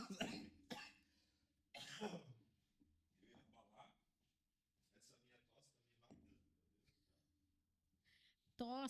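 Coughs and throat-clearing bursts from someone in a studio podcast setting, a few sharp broadband bursts spaced out across the clip, with softer murmuring talk in between.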